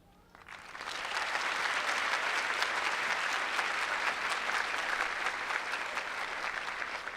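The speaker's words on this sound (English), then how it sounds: "we can give ourselves a round of applause" Sustained applause from a large audience at a Brown University graduate school master's graduation ceremony, rising quickly after a quiet start and holding steady as a dense wash of clapping hands.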